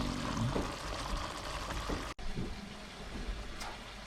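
Sweet pork simmering in a pan with brown sugar and water, a steady close bubbling sizzle that carries on throughout with a brief cut partway.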